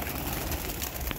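Soft pigeon calls and cooing rise briefly from a flock at a pigeon club, under steady outdoor noise and without any speech.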